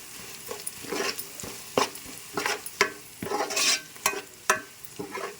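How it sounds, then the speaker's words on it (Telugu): Quiet sizzling of onions frying with spice powder in a pan, punctuated by repeated clinks and scrapes of a spatula stirring, irregular and close, with no talking. "తయారు చేసి పెట్టుకున్న పొడిని కూడా అందులోనే వేసి పచ్చివాసన పోయేంత వరకు బాగా వేయించుకోవాలి."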